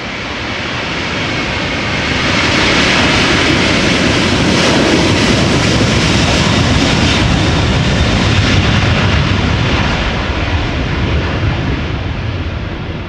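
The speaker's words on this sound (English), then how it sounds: "This is an Airbus A330-300." A Delta Airlines Airbus A330-300 departs Amsterdam Schiphol in a crosswind, its jet engines swelling into a loud, sustained broadband roar that holds steady for several seconds and then slowly eases.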